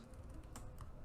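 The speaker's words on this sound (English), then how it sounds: "We can do that by simply typing in" Fingers tap at a computer keyboard, a faint close run of quick soft key clicks over a brief second, with no voice.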